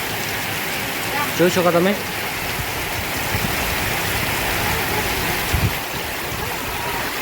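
Heavy rain falling steadily in Rajkot village, Banaskantha, a continuous hiss of water throughout, with a voice speaking briefly over it.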